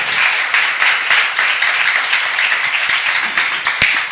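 A church seminar congregation claps loudly and close, a quick rhythmic patter of many hands that lasts about four seconds.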